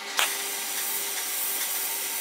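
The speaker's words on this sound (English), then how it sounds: "just a nice smooth arc, quarter an inch above the base metal" A TIG welding arc held about a quarter inch above the base metal, a steady close hiss and buzz with a faint electrical hum, starting with a brief crackle at ignition and no talk.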